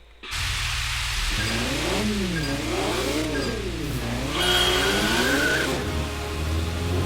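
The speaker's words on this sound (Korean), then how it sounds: "드리프트 깔끔하네" A Toyota 86 drifts in a replay of the Initial D PS3 racing game. Its engine note rises and falls in wavering sweeps, and tire squeal hisses throughout at a loud, steady level with no talk.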